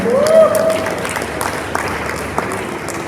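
Audience applause for a panelist at a conference, a moderate wash of clapping from a large room with a brief tonal sweep at the start and scattered louder claps.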